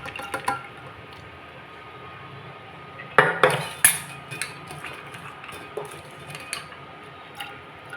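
Chana dal going into a cooking pot on a home stove in a Bengali kitchen, with a bay leaf and a cardamom: light rattles and clinks of pot and utensils, with a cluster of louder metallic knocks and scrapes midway.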